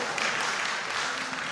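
Audience clapping for a school team at an academic quiz competition, a brief, steady burst of applause from the crowd at an even level.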